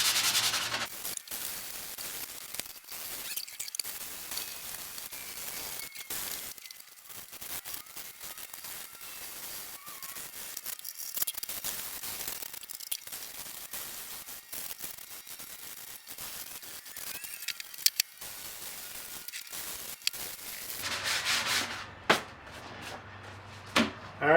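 Continuous scratchy rubbing of sponge sandpaper worked across a surface, close and moderately loud, with uneven back-and-forth strokes and occasional knocks.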